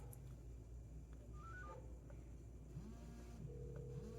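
An AOLON FOOM Lite smartwatch places a Bluetooth phone call, producing a short run of clear dialing tones over a steady low background hum, moderately faint and close.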